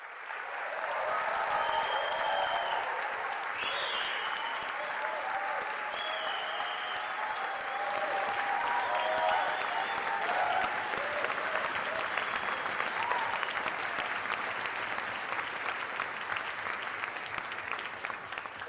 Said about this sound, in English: give all 6 finalists a very warm, long round of applause and some encouragement